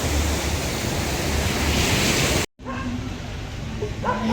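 Steady broadband wash of surf on Varkala beach in Kerala, India, where the sea is shallow, fairly loud and continuous, briefly cutting out before resuming with a faint hum and distant voices.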